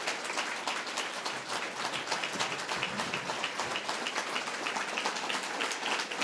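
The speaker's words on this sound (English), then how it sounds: "with your applause, please join me in welcoming the 56th Governor of New York, Governor Andrew Cuomo." A business council's annual meeting audience gives sustained, dense applause welcoming the Governor of New York, a continuous crowd of many hands clapping at a steady level throughout.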